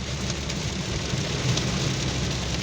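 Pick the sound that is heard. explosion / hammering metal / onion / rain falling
rain falling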